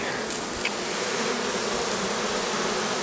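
Honey bees buzz at an open hive during natural, chemical-free beekeeping, a dense continuous drone close by with no pauses.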